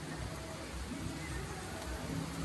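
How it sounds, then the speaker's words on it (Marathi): Rain falls steadily at Splash Resort in Karjat near an empty pool, a soft, even hiss of drops filling the whole stretch with no breaks. "हे बघा पाऊस बघा, फायनली सकाळपासून पावसाची वाट बघतोय"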